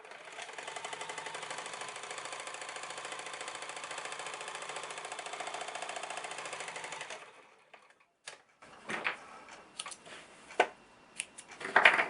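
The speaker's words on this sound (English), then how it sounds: "So I'm going to go to the sewing machine, and all you have to do is stitch the two sides." A sewing machine stitches fabric steadily for about seven seconds with a fast, even mechanical chatter, then stops, followed by scattered handling clicks and rustles.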